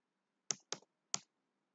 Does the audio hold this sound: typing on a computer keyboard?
yes